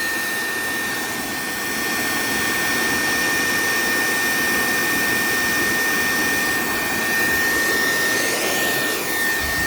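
A waste oil burner fire roars steadily and loudly, a dense broadband rushing like a jet or blower, with a slight swell in intensity partway through and no talking.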